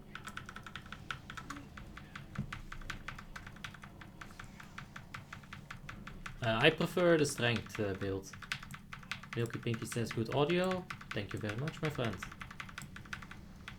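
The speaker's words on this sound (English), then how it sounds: "Your clicking is 3 times as loud as the game sound" Rapid, loud clicking of a computer keyboard and mouse during World of Warcraft play keeps going throughout, close to the microphone, while someone talks over part of it.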